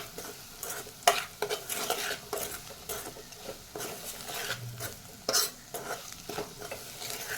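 Beetroot fry with chili powder is stirred in a pan, close spoon scrapes and taps recurring in an uneven rhythm over a soft background sizzle, with no voices.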